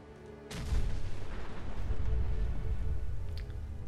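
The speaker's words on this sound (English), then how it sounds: "That was an explosion." An explosion goes off in the video game Fallout 4, a sudden loud boom followed by a sustained rumbling roar with no talking.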